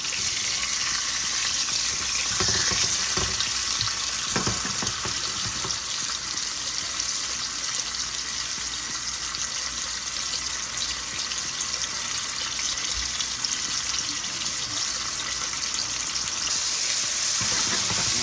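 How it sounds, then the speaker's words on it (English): Red snapper sears in a hot pan for a coconut milk dish, a loud, continuous sizzle and hiss with a few brief clatters early on; no talking. "you want to get a nice sear on each side"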